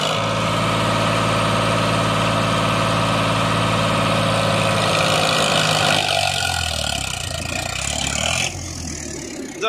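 Swaraj 855 and Farmtrac 60 Powermax tractor engines running loud and close, a steady heavy diesel drone with a shift in tone partway through, no talk.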